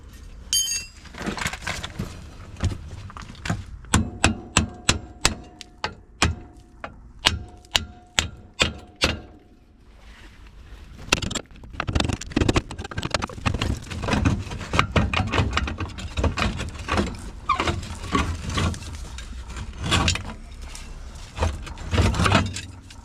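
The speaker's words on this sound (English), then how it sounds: "I'm just going to get a hammer so I can knock all these bolts out" Hammer knocking bolts out of a classic VW Beetle 1302/1303 IRS rear trailing arm in a workshop: a run of sharp metallic strikes in quick series, pausing, then resuming in irregular bursts.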